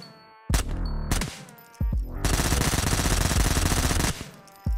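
Rapid automatic bursts from an M4 rifle in the VR shooter Ghosts of Tabor: a short burst, a single sharp report, then a sustained loud rattling string of shots lasting about two seconds before it cuts off.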